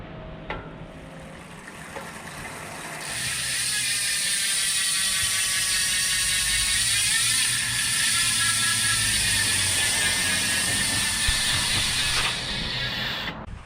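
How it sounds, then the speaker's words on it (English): A rapid, steady buzz of freehub ratchet clicking from a BMC TeamMachine SLR01 road bike with Elite wheels, close and continuous for about ten seconds, with no voices. "let's check the hub sound"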